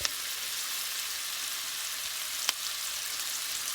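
Chana masala fries in a pan over medium heat, a steady, even sizzle close by, with a couple of faint stirring clicks.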